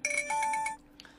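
A telephone rings with a bright electronic ringtone in a short melodic burst of under a second, then cuts off into a quiet room.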